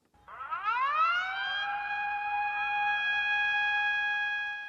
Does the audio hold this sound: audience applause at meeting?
no